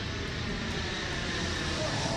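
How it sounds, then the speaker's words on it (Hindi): A heavy Super Hercules military transport aircraft lands near the India–Pakistan border, its engines giving a loud, steady broadband drone throughout. "भारत पाकिस्तान सरहद से सटे इलाके में भारी भरकम सुपर हरक्यूलिस विमान उतरा"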